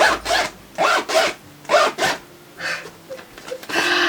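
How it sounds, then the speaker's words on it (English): A bag's zipper is pulled open in a series of short raspy strokes, about six distinct zips with brief pauses between, close and clear with no talking. "Oh wait, there's a zipper"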